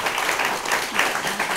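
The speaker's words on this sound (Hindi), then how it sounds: "तो बिल्कुल इस पर एक जोरदार तालियां बजनी चाहिए।" A brief, loud burst of audience applause at a discussion program about soil health cards, dense and continuous clapping with no pause.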